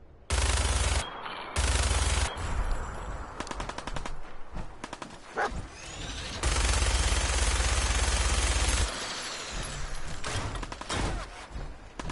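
Automatic gunfire in Fallout 4 aimed at a deathclaw, long loud bursts of rapid shots alternating with shorter volleys and quieter stretches of clattering fire, close and dominant throughout.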